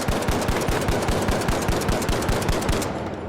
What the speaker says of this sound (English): if I shoot as fast as I can and move my mouse downwards